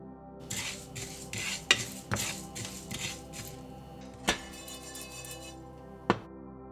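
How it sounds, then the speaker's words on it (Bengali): Whole cumin, coriander, fennel and fenugreek seeds with chili flakes are dry roasted in a pan, heard as soft rattling and scraping with a few sharp metallic clinks of a spatula against the pan. "এবারে হালকা হালকা করে মশলাগুলোকে টেলে নিচ্ছি"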